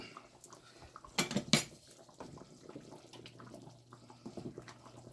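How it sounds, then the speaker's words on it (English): Metal spoon clinks and scrapes against a pot of boiling water a few times, with quiet bubbling and kitchen noise underneath; no one speaks. "and I'm just going to stir this up."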